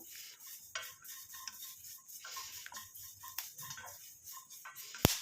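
Almonds, curry leaves and black cumin are fried and stirred in a pan, giving quiet intermittent scraping and clinking of a utensil against the pan, with one sharp metallic knock near the end.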